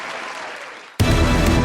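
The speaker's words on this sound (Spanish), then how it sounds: "Este aplauso es para usted. Es grabado, pero es lo que hay." Recorded applause on a comedy podcast starts abruptly partway through, a loud, dense burst of clapping after a quieter stretch of room tone.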